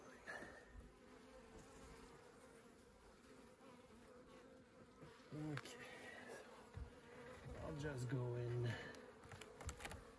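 Many bees buzz steadily in an open hive during an inspection, a low, continuous drone, fairly quiet overall, with a few louder passes as individual bees fly close.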